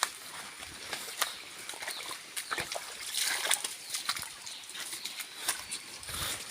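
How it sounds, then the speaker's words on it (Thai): A forest stream trickles and splashes in the early morning, a soft continuous burble with small scattered drips and splashes, fairly faint and steady. "ห้วยน้ำลำธาร"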